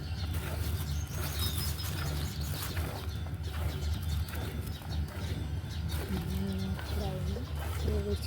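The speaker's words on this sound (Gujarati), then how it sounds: "મસ્ત મજાના ચકલા બિલીમાં ને જામુનના બોલે છે" Sparrows chirp from bael and jamun trees in a village yard, scattered high calls over a constant low rumble of farmyard noise.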